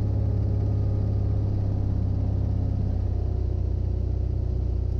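A Jabiru light aircraft engine throttled back to about 1,800 RPM on approach with 20 degrees of flaps, a steady, even low drone heard from inside the cockpit with no change in pitch.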